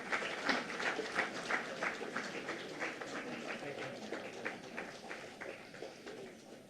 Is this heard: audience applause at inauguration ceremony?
yes